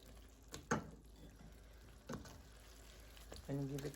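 Jamaican saltfish with seasoning frying in a pot, a faint low sizzle under a few sharp scrapes of a spoon as it is stirred, with a brief voice near the end.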